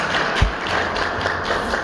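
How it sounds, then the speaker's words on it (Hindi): Audience applause at a talk or lecture, a short run of scattered hand claps with a few sharper taps, moderate and fairly close. "इसके नाम की ताली बजा दो"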